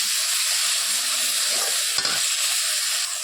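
A pan of frying fish seasoned with turmeric sizzles loudly and steadily, with a brief bright hiss and clatter as a little water goes in and the pan is covered.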